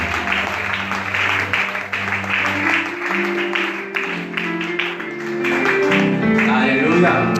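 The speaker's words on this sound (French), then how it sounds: "Acclamons royalement pour le Seigneur" A church congregation applauds and cheers in praise of Jesus Christ, a dense sustained wash of clapping and voices that swells louder toward the end, with music playing underneath.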